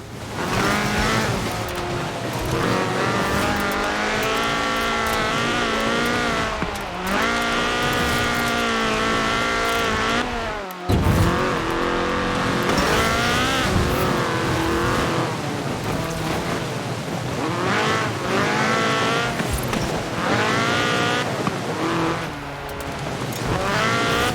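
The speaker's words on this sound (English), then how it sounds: "This was a car designed explicitly for rallying, with a powerful fuel-injected 1790cc Cosworth BDE engine." Ford RS 1800 rally car with a fuel-injected 1790cc Cosworth BDE engine, driven in the Forza Horizon 4 racing game, revs loud and continuously throughout with shifting pitch, rising and falling through gears, with a brief break near the middle.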